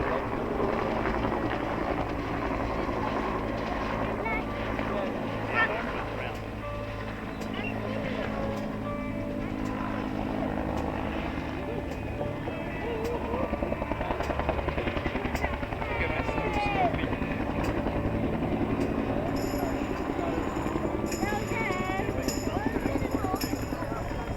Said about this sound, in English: This the UH-1H Iroquois from the Huey team.